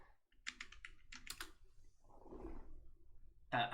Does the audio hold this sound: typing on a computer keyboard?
yes